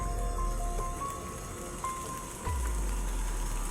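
Steady rain falls in the open around a mountain area where trees have been cut and the ground tilled, a dense constant hiss with a low rumble and a few faint knocks, with no one talking.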